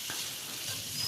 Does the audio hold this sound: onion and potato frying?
yes